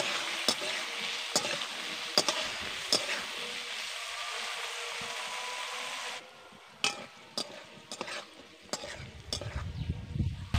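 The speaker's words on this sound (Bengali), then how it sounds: "মটরশুঁটিগুলো ভাজবার সময় তেলটা কিন্তু অল্প করে দিতে হবে" Green peas fry in a small amount of oil, giving a steady close sizzle broken by sharp scraping stirs and clicks, quieting partway through before more stirring and spatter return.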